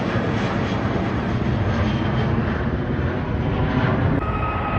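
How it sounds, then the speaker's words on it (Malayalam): A British Airways airliner flying near Heathrow produces a loud, steady broadband jet roar that fills the whole stretch without easing, with no voices heard over it. "ബ്രിട്ടീഷ് എയർവേസിൻ്റെ ഒരു ഫ്ലൈറ്റ് ആയിരുന്നു"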